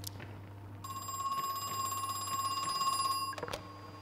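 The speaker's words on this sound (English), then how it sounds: "the phone is ringing." A telephone rings in the horror video game Crow Country, a sustained electronic bell tone with a buzzing trill that starts after a moment, rings steadily and loudly for a few seconds, then stops abruptly.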